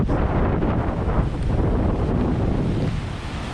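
Strong wind buffets the microphone over the constant roar of rough, dirty surf breaking on a beach, a dense unbroken wash of noise with no voices, easing slightly near the end.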